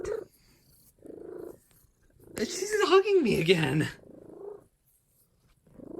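A pet cat purrs loudly and continuously while being held close, a rough rumbling purr in the middle of the clip with someone speaking briefly before and after it.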